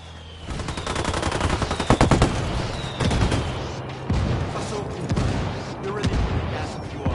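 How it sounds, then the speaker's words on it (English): Heavy video game gunfire and booming impacts from an indirect-fire barrage form a dense, continuous wall of sound. Repeated sharp cracks and rumbling blasts follow one another without pause, and voices come through now and then. "I called the rebels for some indirect fire."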